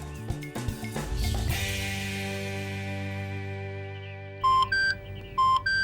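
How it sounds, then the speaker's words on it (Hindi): Short electronic telephone beeps in a drama scene, a few tones early under music, then several bright evenly spaced beeps near the end, fairly close and clear. "मैं फोन करती हूँ उसे।"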